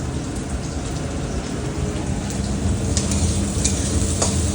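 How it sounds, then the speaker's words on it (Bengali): Onions frying in a home kitchen pan, a loud, steady close-up sizzle with faint crackles throughout and no talking. "আলু ভাতে করবো ওই জন্য পেঁয়াজ ভাজছি"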